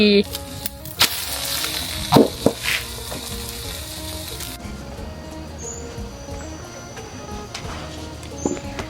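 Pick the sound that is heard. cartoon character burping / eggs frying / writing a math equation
eggs frying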